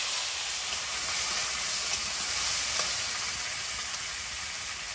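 Eggplant and green chili frying in hot oil in a wok make a steady, even sizzle and hiss that runs through the whole stretch.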